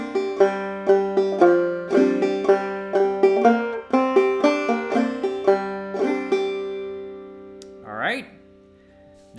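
Clawhammer banjo plays the old-time tune Cluck Old Hen, with bright plucked notes and brushed strums in a steady bouncing rhythm, loud and close, ending with a short spoken word.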